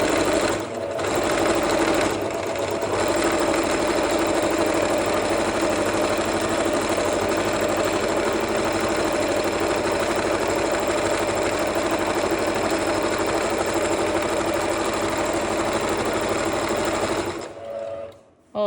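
A sewing machine running continuously during free-motion quilting, a steady mechanical whir and rapid needle hum close up, briefly pausing near the start and stopping at the end.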